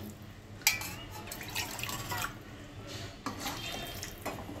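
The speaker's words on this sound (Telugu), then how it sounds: "నేను ఎసురు పోసుకుంటున్నాను ఒక గ్లాసున్నర పోసుకుంటాను" Water is poured from a glass into a pot of coriander-mint rice, a close uneven splashing and trickling with a few sharper splashes, fairly quiet.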